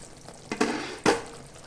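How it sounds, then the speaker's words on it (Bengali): Katla fish curry simmers in a pan over a medium-low flame: a soft, low bubbling hiss broken by two brief, louder sizzling surges. It sounds close, with no speech. "গ্যাসের ফ্লেমটা মিডিয়াম টু লো করে দিয়ে ঢাকা দিয়ে এটাকে বেশ কিছুক্ষণ ফুটতে দেবো"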